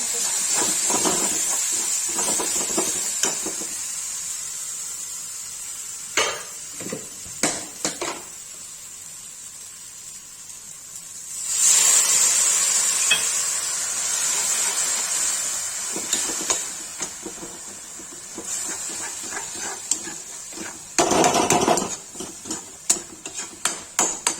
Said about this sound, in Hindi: जो ये पेस्ट बना के रखा था लाल मिर्च और गरम मसाला का, इसको डाल देंगे। इसको उसके बाद भून देंगे